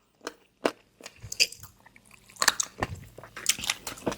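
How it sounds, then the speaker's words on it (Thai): Crunchy angel-wing jellyfish served with roasted chili dip being bitten and chewed up close, a series of sharp crisp crunches in an irregular rhythm with quiet gaps between bites. "กรอบมากกรอบเหมือนแมงกะพรุนหัวกระสุนเลยค่ะทุกคน"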